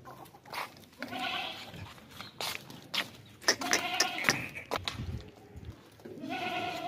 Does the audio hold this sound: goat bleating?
yes